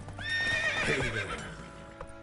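Geralt's horse Roach whinnies loudly in The Witcher 3, a drawn-out neigh over faint hoof clatter, close and alone without talk.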